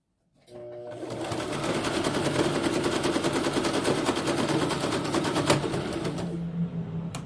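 A sewing machine stitching fabric for a gratitude journal, running continuously with a fast, even mechanical chatter for about six seconds before slowing to a stop.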